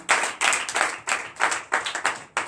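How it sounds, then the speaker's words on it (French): A congregation at a night deliverance and prophecy church service claps in acclamation, a steady rhythmic beat of many hands in even pulses, loud and close with no voices. "Donnez l'acclamation à notre Seigneur."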